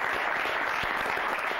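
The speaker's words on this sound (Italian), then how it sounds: "Facciamo un applauso." Brief burst of dense, steady audience clapping during a youth football program event, sustained and even throughout its short span.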